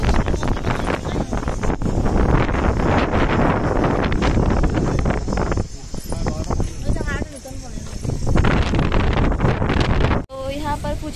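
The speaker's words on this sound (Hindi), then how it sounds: "और इतना तेज हवा चल रहा है इधर।" Strong wind gusting at Chandra Choodeswarar temple in Tamil Nadu, buffeting the microphone with continuous rough rumble while people talk nearby and the crowd bustles around.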